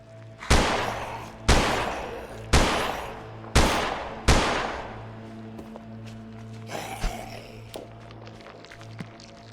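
Five loud, evenly spaced gunshots ring out in a Polish horror video game, each with a sharp crack and a decaying tail, over a steady low hum, followed by softer scattered thuds.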